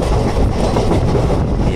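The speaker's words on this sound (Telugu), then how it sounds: "ప్రజెంట్ మన ట్రైన్ ఇప్పుడు స్కిప్ చేస్తున్న స్టేషన్ చర్లపల్లి" Secunderabad–Rajkot weekly express running through Cherlapalli station without stopping, a brief dense roar of wheels and rattling carriages heard close up from onboard, loud and unbroken for under two seconds.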